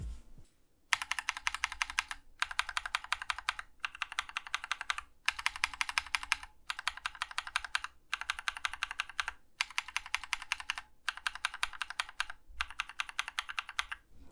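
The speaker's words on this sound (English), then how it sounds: "Here is a quick sound comparison of the Glorious Panda unlubed, lubed, and then lubed and filmed." Bursts of rapid typing on a Glorious Panda mechanical keyboard, switches heard unlubed, lubed and then lubed and filmed; about ten close, crisp clacking runs separated by brief pauses, no voices.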